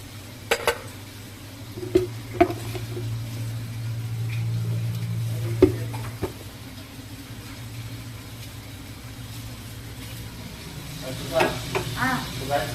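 Lamb being sautéed with salt, cumin and baharat for mandy: a low, steady sizzle beneath occasional clinks and scrapes of utensils against the pan, with a voice speaking intermittently.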